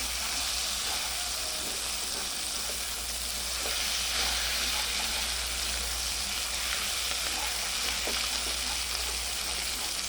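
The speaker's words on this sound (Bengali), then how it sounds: "ফ্রাই প্যানে নাকি ধরে যায় না, দেখেন ধরে যাচ্ছে, পুড়েও যাচ্ছে। অনেক তেল দিচ্ছি তারপরেও।" Steady, dense sizzling of pointed gourd frying in plenty of hot oil in a frying pan, sticking and burning, continuous crackle and hiss throughout with occasional small pops.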